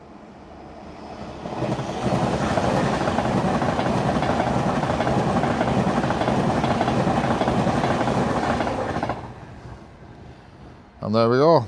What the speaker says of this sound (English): Pendolino going to London Euston.